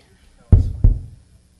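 Two hollow, low-pitched knocks on a drum, close and fairly loud, spaced about a third of a second apart, each fading quickly, at a live music soundcheck.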